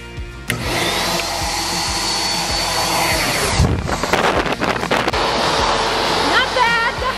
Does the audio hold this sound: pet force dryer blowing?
yes